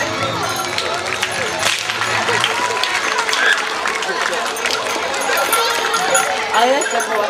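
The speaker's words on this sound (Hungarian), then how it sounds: "Nagy tapsot kérek!" Crowd applause at an outdoor Hungarian horse herder show, with steady clapping under an announcer talking over a loudspeaker.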